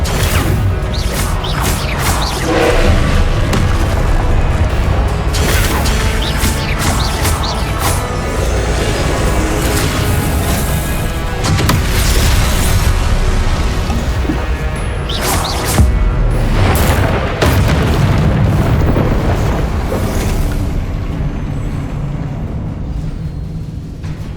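Confringo blasting spell in the Hogwarts Legacy video game, loud continuous explosive crashes and booms layered in dense combat noise with whooshes, sustained throughout.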